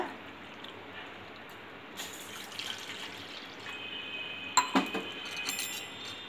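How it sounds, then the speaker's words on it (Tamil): Water pours steadily with a soft rushing hiss into a pot, about one glass measure, ending in a few clinks and splashes of metal and glass. "அந்த பாத்திரத்தில் இந்த 1 கிளாஸ் அளவு தண்ணி ஊற்றிக்கோங்க."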